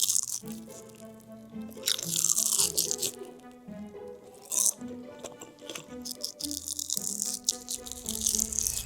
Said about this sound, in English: This definitely passed the crunch test for me.